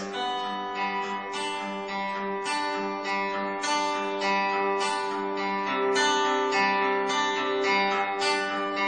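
Fingerpicked acoustic guitar plays a steady, repeating pattern of plucked notes, bass and treble strings alternating in an even rhythm, close and clear.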